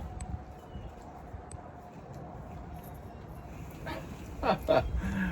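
A dog outdoors near a smoker gives a couple of short barks or yips close together near the end, over background noise with a person talking.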